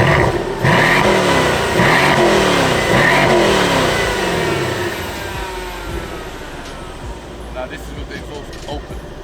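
Mercedes C63 AMG V8, tuned to stage 2+, revs repeatedly with its exhaust valves closed, giving several rising and falling bursts up close before settling toward a lower idle rumble.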